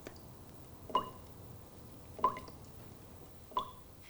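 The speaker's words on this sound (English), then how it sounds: "The tap in the kitchen that went drip," A kitchen tap drips three times at slow, even intervals, each drop a sharp close plink against a quiet room.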